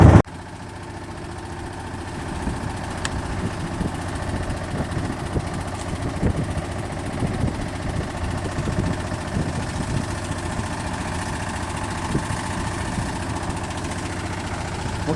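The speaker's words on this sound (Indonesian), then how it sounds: "Jadi sekarang menggunakan tenaga mesin." Engine of a bagang fishing boat running steadily at a fixed pitch, a continuous near drone with a faint vibrating rattle and no talk.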